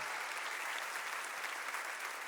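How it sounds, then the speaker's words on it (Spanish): An audience claps steadily for a runner who finished a race at a community event, a soft, dense patter that sounds fairly distant and continues evenly throughout. "Un aplauso para Emanuel, que terminó bien la carrera."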